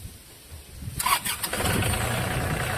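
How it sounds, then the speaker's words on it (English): A small diesel tractor engine cranks and catches around the one-second mark, then settles into a steady, close, fairly loud idle running to the end. "Will it start a small diesel engine?"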